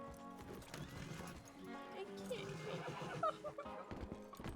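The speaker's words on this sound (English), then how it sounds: "Oh, I hear my horse." Horse hooves clip-clop and a horse whinnies in the Western roleplay game WildRP, fairly close, with talk and background game sounds layered over the hoofbeats.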